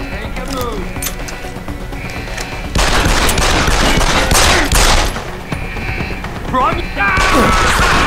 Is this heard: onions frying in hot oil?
no